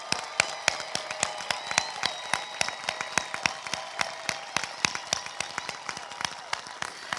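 A graduation audience applauds with steady, rapid clapping that carries on evenly for several seconds, loud and close.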